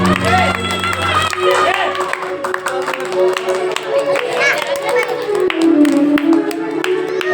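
A crowd at a devotional bhajan gathering claps for the accompanying musicians, a dense run of applause and cheering mixed with singing tones and voices, fairly loud and near throughout.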